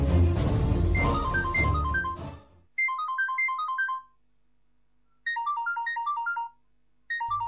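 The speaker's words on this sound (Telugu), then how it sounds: "ఎవరో ఫోన్ చేస్తున్నారు" An incoming call's phone ringtone plays a bright melodic jingle in three repeated bursts with silent gaps between them, after an opening stretch of louder background music.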